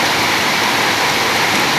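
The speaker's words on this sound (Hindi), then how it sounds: "धमाकेदार बारिश भाई, धमाकेदार।" Heavy rain pours down in a dense, steady roar of hissing water, loud and unbroken throughout.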